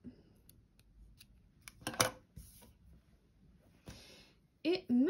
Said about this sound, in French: Je coupe mon fil gris.